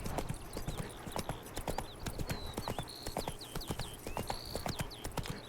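Roach the horse gallops in The Witcher 3 video game, a rapid, steady clip-clop of hooves with bird chirps in the background, fairly quiet and without talk.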